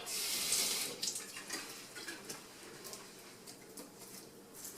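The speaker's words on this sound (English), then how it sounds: "I'm going to put some water in this and get every drop I can." Tap water runs into a nearly empty sauce container for pulled pork, a hissing splashy pour that starts strong and quickly thins to softer trickling and gurgles, fairly faint, with no talking.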